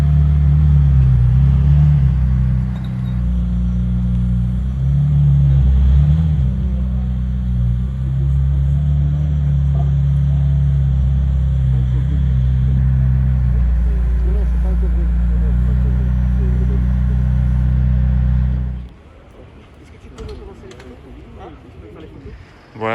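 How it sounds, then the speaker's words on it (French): A McLaren Senna supercar rolls through Monaco on its first laps, a deep, steady low engine rumble holding loud and close for about nineteen seconds before cutting away, with people talking over it. "la Senna est arrivée. C'est ses premiers tours de roue dans Monaco"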